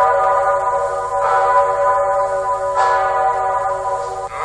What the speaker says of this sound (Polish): W Krakowie było słychać najsłynniejszy polski dzwon, czyli dzwon Zygmunt, który rozbrzmiewa tylko w najważniejszych chwilach.